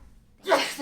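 A single sneeze bursts out partway through, loud and close after a brief near-silence, during a meeting.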